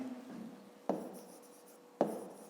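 A pen writes numbers by hand on paper in soft scratchy strokes, punctuated by two sharp taps about a second apart, close and quiet with no voice.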